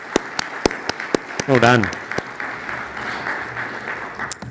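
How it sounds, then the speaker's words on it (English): A forum audience gives presenters another hand after ignite talks, sparse sharp individual claps spaced out over a quiet room with a brief spoken comment in the middle. "I'd like to actually give those guys another hand of applause"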